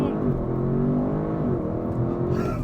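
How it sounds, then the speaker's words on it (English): An Audi RS6 Performance wagon's engine revs high and holds steady on launch control, a dense, continuous roar building under a brief voice, with the pitch climbing slightly near the end. "holding my foot on the brake, pinning the throttle, building up the revs"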